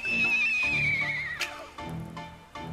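A human voice imitates a horse, giving one loud, close, long quavering whinny that descends in pitch and ends with snorting, breathy bursts.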